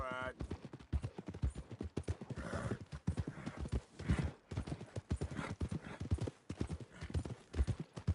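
Horse hooves clip-clop in a steady rhythm in the video game Red Dead Redemption 2, fairly close, with a short whinny and speech over the hoofbeats.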